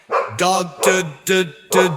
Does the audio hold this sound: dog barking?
yes